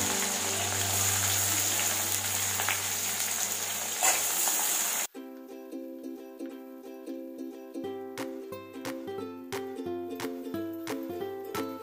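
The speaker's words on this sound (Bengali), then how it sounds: "পেঁয়াজটা একটু ভাজা ভাজা হয়ে গিয়েছে।" Onion and green chili frying in a pan: a steady, loud sizzling hiss for about five seconds, then an abrupt cut to rhythmic plucked background music.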